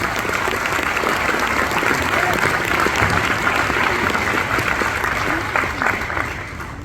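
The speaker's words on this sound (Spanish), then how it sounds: "recibimos con un fuerte aplauso" Applause welcoming a speaker to the stage, a loud and even wall of clapping from a large crowd with faint voices mixed in, holding steady for about seven seconds.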